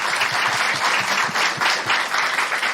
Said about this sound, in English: Yasmin, big round of applause for Yasmin.